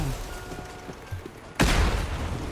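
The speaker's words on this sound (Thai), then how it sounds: "เอาโดนระเบิดเต็มเต็ม" A sudden loud explosion bursts out in the Propnight video game, a sharp broadband boom followed by a rumbling tail after a stretch of quieter in-game sounds.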